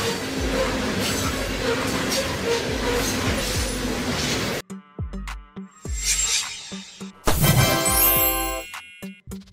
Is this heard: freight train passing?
yes